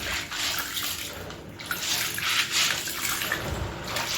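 Dried breadfruit that has soaked for thirty minutes is washed in water, with continuous splashing, sloshing and swirling close by and rising and falling in waves, fairly loud with no voices.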